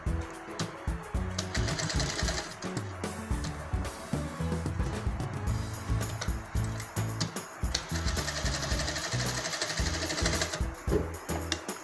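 A sewing machine stitches the fabric of a handmade flower, running in rapid mechanical bursts with short pauses and restarts, close and fairly loud throughout with no talk.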